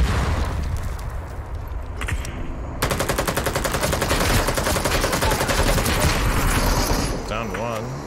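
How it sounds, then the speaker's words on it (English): Rapid automatic gunfire in a SWAT team video game, sustained bursts and sporadic single shots, loud and close, with players talking over the shooting. "I'm getting shot in the back"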